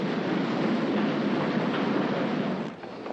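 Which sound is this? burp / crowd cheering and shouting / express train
express train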